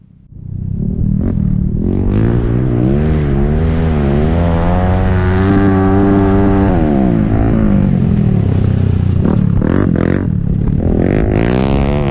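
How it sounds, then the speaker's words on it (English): A flat track motorcycle racing demonstration at a racing boot camp, with close, loud engines revving and droning as bikes accelerate and pass, pitch sweeping up and down over a sustained roar. "Super Pole was followed by a flat track racing demonstration."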